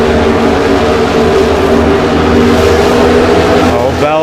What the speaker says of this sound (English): Blaney's beating Bell to the gas right here.